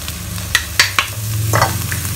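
Chopped garlic and shallots fry in a pan with a steady sizzle, broken by a few sharp clinks and scrapes of a utensil stirring, close and fairly loud with no talking.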